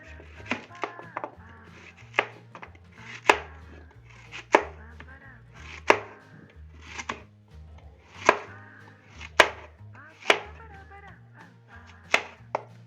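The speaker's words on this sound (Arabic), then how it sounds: "هنبتدي نقطع الكوسة" A knife chops zucchini on a cutting board, with sharp, irregular thunks that come in quick clusters and single strikes, close and distinct over a faint background hum.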